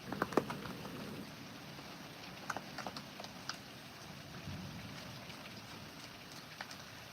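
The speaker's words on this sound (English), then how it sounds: "And the rain just started, if you guys can hear it." Faint, steady rain hisses in the background, with scattered soft taps and drips over the wash of noise.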